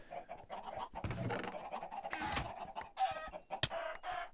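Chickens in the Minecraft video game cluck repeatedly in short, overlapping bursts over a busy backdrop of game sounds, at fairly low level.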